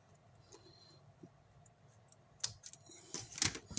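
Scissors cutting paper down to size for a handmade mini album, faint at first, then a few sharp close snips and crisp paper rustles near the end.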